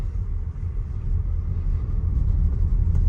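A Range Rover Velar engine rumbles low and steady from inside the cabin, swelling slightly as the throttle is pressed gently, with no voices over the smooth drone.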